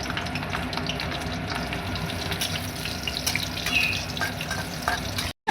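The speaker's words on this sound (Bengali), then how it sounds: "এবার কড়ার মধ্যে তেল দিলাম। ঠিক আছে, বড়িগুলো ভেজে নেব।" Bori, small lentil dumplings, frying in hot oil in a wok, with a steady crackling sizzle that runs unbroken for about five seconds before stopping abruptly; no talking.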